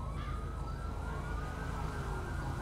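Emergency vehicle sirens in a video game roleplay set in a city, a continuous layered wail that slowly sweeps in pitch over a dense, loud background rumble.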